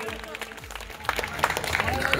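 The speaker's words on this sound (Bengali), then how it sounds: "জোরে করতালি হোক" An audience claps for a guest on stage at a surprise birthday celebration. After a hushed start, scattered, fairly faint handclaps break out about halfway through and continue to the end.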